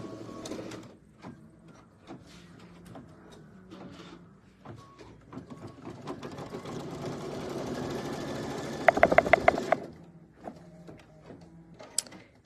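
An embroidery sewing machine stitches a background triangle in bursts of rapid, close mechanical whirring and tapping, with a louder rattling run that ends sharply, between quiet gaps.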